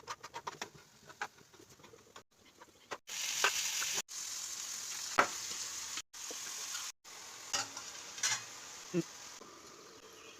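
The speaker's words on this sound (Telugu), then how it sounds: "ఫ్రై అవుతుందా?" Cluster bean curry frying in a pan gives a soft, faint sizzle that comes and goes in stretches, with occasional clinks and small bird-like chirps in the background.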